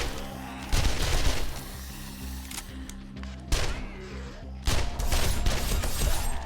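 Gunfire in the zombie survival game 7 Days to Die, several loud sharp bursts of rapid shots separated by brief pauses over a low steady background hum.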